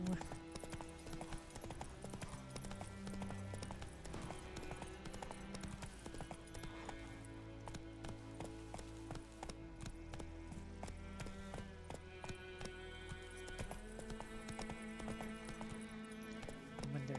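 Horse hooves clip-clop at a steady trot in Witcher 3, rhythmic and continuous beneath looping game music, with an occasional faint whinny.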